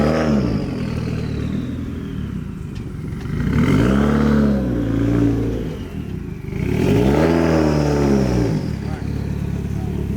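A 2015 Subaru WRX fitted with a competition clutch and lightweight flywheel accelerates from inside the cabin, engine revs rising and dropping through several gear changes, fairly loud and close.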